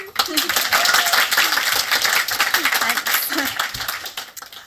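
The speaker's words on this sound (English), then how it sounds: "Round of applause for Mei" An audience at the IBC Awards 2026 ceremony applauds a presenter being welcomed on stage, with loud, dense clapping close by throughout and a few voices mixed in.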